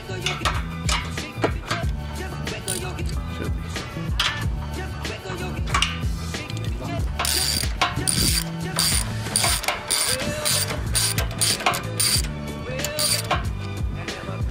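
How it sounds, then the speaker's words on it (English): A ratchet wrench backs out bolts on a Hyundai Veloster during an intercooler upgrade, rapid clicking bursts repeating close and clear with metallic clinks between strokes. "So as you can tell, I'm removing some bolts"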